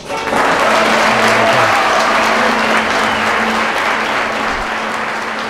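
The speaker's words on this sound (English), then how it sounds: "Give them a round of applause." Wedding guests clap for the newly introduced couple, a loud, full burst of applause from a crowd that swells quickly and holds steady before easing off slightly near the end.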